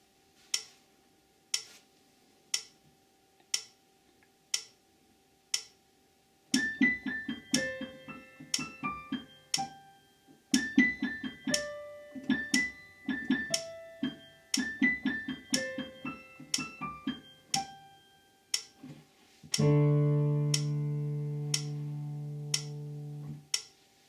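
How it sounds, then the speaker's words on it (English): A metronome at 60 beats per minute ticks steadily once a second, sharp and evenly spaced clicks, joined partway through by piano chords and melody from a song cover, ending on a sustained held chord. "If we put a metronome on, it sounds like this."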